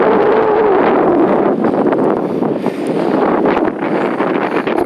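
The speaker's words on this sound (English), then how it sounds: "If it wasn't so damn windy" Loud, constant wind at Sea Gull Beach by the ocean, roaring close with gusty surges and brief bursts throughout and no talking.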